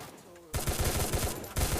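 Rapid bursts of gunfire from the Free Fire battle royale game, loud and dense with repeated shots after a quieter opening, one burst running into the next.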